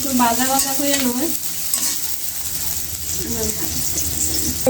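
Onions frying in oil for noodles sizzle steadily while being stirred, with close scraping across the pan and a voice speaking over the cooking.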